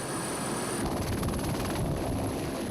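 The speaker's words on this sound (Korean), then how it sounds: "다시 헬기가 이륙했다." A forest aviation service helicopter taking off on a hot day, its loud rotor chop and turbine whine pulsing rapidly and building after the first second, close and dominant.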